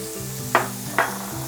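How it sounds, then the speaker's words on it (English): Garlic and shallot sizzle in an oiled wok under a steady low frying hiss, with two brief brighter bursts of tossing or scraping about half a second apart, no voices. "season the wok a little bit and toss in the garlic and the shallot"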